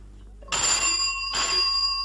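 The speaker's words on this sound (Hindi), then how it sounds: "हमारा फोन भी बोलने लगा है अपनी चुप्पी से निकल के। समझकर हमारे यार की खुशी ट्रिन ट्रिन करने लगा है मचल के।" A telephone rings in a trin-trin burst, two bright bell rings with a short gap between them, set in a Hindi radio comedy play about a bachelor.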